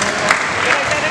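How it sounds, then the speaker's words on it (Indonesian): An audience claps in a brief burst of steady applause at a book discussion event, a dense patter of hands filling the room. "tepuk tangan."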